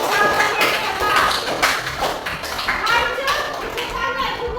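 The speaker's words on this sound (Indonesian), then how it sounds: "Tepuk tangan untuk Patrick." Children in a sixth-grade elementary classroom clap together in a dense burst of overlapping claps, with young voices mixed in throughout.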